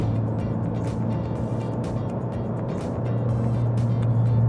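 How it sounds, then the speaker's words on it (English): A turbocharged Mazda car cruises along a city street, a steady low engine drone with a faint whooshing and wind noise, heard from inside the car at constant moderate volume. "So, all right, let's go drive the car."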